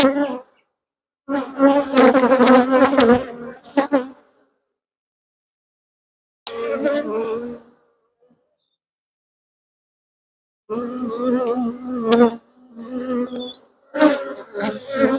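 Honeybees buzz loudly and close during a hive inspection, the drone swelling in several bursts with silent gaps between them.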